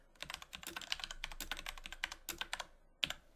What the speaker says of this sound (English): I'm going to type in vol size vol 0 6G